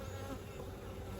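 A steady close swarm drone of irritated honeybees at an opened hive during an autumn varroa mite inspection, continuous and alone.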